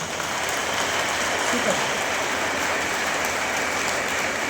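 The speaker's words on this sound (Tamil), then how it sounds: "அம்மா பிள்ளையாக தான் இருப்பேன்னு சொல்கிற பசங்க ஒரு பெரிய கைத்தட்டல் கொடுங்க" A large audience at a festival gives a big, sustained round of applause, a dense steady wash of clapping that holds at an even level throughout.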